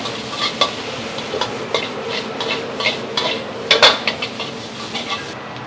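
Stir-frying mie goreng noodles with soy sauce in a pan: a spatula scrapes and clanks against metal in irregular strokes over a steady sizzle, close up with no talking.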